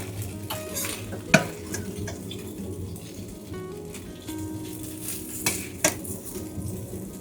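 Pork fries in a hot wok with a steady, moderate sizzle, broken by occasional sharp clinks and scrapes of utensils against the metal.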